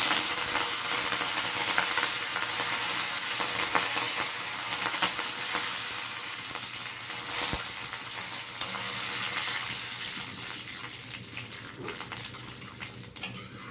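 Curry leaves crackling and sizzling in hot oil in a pan, a steady close frying hiss with small pops throughout, while carrots and onion are readied for a banana-stem and carrot stir-fry.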